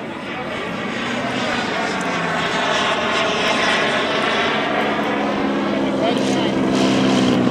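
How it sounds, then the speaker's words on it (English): An RC model turbine jet aircraft comes in to land at a scale model flying event, heard as a loud, steady engine roar that holds throughout and rises slightly toward the end. "I think the turbine called for landing too, but we're going to let the extra come in first."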